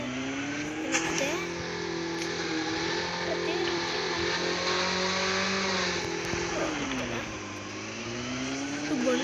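Vehicle engine driving in the Call of Duty: Mobile battle royale game, a steady droning whine that rises and dips in pitch as the vehicle speeds along, with a person talking over it.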